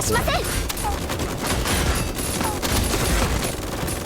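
Rapid gunfire in a tank video game, a dense continuous barrage of loud shots and booms across the whole stretch, mixed with game sounds and no clear talk over it.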